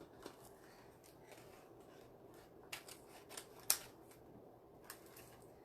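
Scissors snip moss for a Medusa-style wreath, giving a few faint, scattered cuts in a quiet room with one sharper snip near the middle.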